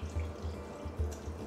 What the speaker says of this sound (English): And we're going to add to this some water.